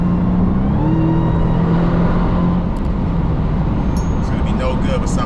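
A Dodge Hellcat on summer tires in winter accelerates gradually. A steady engine drone and whir runs throughout, with someone talking over it.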